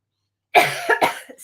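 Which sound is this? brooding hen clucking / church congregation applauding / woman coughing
woman coughing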